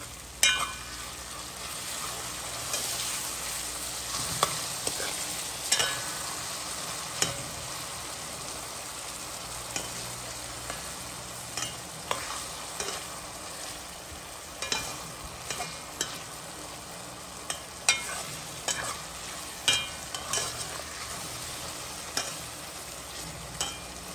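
Tomato sizzling in a pot while cooking, with a steady soft crackle and regular spoon strikes and stirring scrapes every second or two, fairly faint and without talk.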